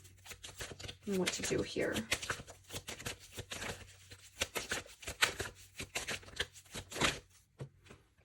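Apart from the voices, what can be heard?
shuffling tarot advice cards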